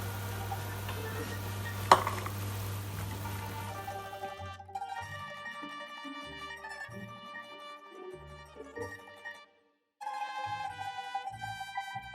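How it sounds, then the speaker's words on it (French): Gnocchi are dropped into a pot of boiling salted water with olive oil, starting with a steady low bubbling, then clinks and soft splashes of the pot and utensils in a short irregular series, a brief pause, then more clatter. "Maintenant que l'eau est bouillante, je vais mettre les gnocchis."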